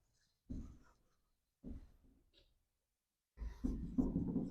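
A pen scratching across paper as someone handwrites notes for an essay, heard close up in three short bursts of strokes separated by quiet pauses, the last burst longer and busier.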